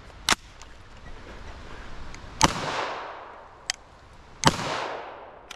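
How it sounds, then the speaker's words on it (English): An unsuppressed Kriss Vector 9mm carbine fires supersonic rounds slowly into dirt outdoors, giving sharp, loud cracks spaced about two seconds apart, each followed by a decaying echo tail. "So I'm going to start off by firing 2 supersonic rounds unsuppressed, slow fire into the dirt"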